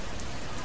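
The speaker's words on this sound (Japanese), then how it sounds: "雨降り出しました。" Steady rain from a smartphone game's sound effects pours down continuously as a dense, even hiss with soft patter, with no voices over it.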